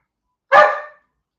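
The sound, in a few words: dog barking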